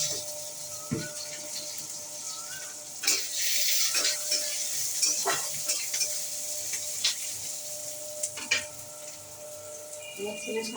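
Food frying and being stirred in a pan, with a steady soft sizzle broken by scattered utensil scrapes and clinks against the pan, and a voice faintly in the background.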